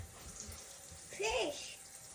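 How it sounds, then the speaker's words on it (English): A kitchen sink tap runs while a freshly cleaned trout is washed, a faint steady splash and trickle with a brief louder gush of water past the midpoint. "I'll take it over to the sink and wash it out."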